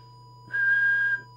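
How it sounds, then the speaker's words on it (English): A single steady whistle is made into the microphone of a Midland 78 Plus Multi CB radio during transmitter adjustment. It is held for about two-thirds of a second over a faint hum. "Check it with the whistle test."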